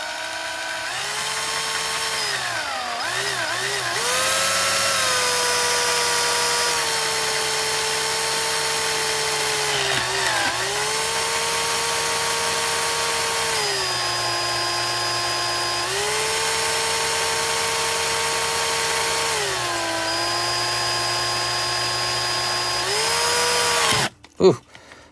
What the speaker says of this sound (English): How well does Tag survive drilling?